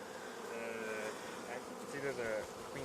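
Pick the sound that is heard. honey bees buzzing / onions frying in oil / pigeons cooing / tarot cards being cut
honey bees buzzing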